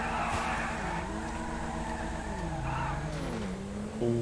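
A modded Tofaş car revs hard in GTA 5, engine pitch sweeping up and down as it launches with wheelspin, loud and close, with a squeal of tires and a brief burst of revving at the end.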